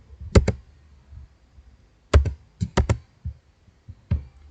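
Keys clack on a computer keyboard during spreadsheet work, a close, crisp double tap, then a quick cluster of three or four presses and a few softer scattered taps, with quiet gaps between.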